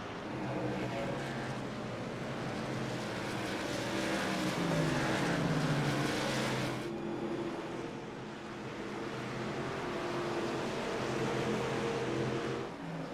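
Race cars lapping at North Wilkesboro Speedway, a continuous loud engine roar with overlapping pitch sweeps as cars pass, dipping briefly midway then swelling again, heard at a distance from trackside.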